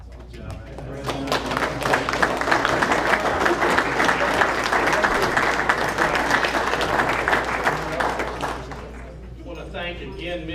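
A crowd cheers and applauds loudly and steadily at a school board meeting, the sound of many clapping hands and voices sustained for around ten seconds before easing slightly at the end.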